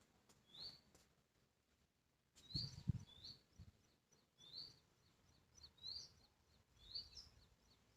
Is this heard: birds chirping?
yes